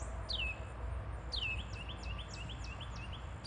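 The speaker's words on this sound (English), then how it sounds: "It's a little warbler, I think." A small warbler sings a thin, high warbling song, one call followed by a quick repeated series, over a low constant rumble of background noise.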